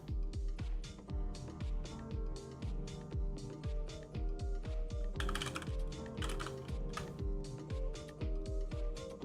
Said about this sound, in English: I'm just going to start typing stuff in here.